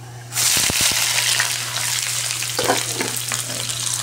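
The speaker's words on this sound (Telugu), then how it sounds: "ఉల్లిగడ్డలు ప్లస్ మిరపకాయలు వేసుకుందాం అన్న" Onions and chillies dropped into hot oil in a pan burst into a loud, sudden sizzle that settles into a steady, crackling fry, close up, with a few stirring knocks near the start.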